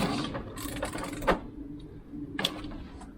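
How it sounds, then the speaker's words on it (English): A socket ratchet clicks in short bursts while nipping up bolts on the exhaust of a VW Polo 9N during a catalytic converter replacement, close and fairly quiet, with pauses between strokes. "which is just the socket, just to nip these up"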